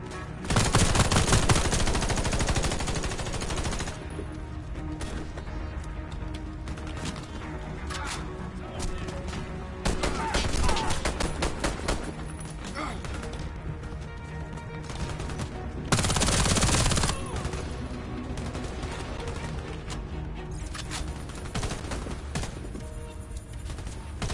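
MPA-10 SFTX micro Uzi submachine gun in a video game, firing in rapid, loud bursts of several seconds each that repeat over and over, separated by short lulls.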